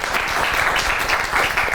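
Dense, even applause from a studio audience fills the short stretch after a singer's performance on a talk show, loud and continuous, with no voices.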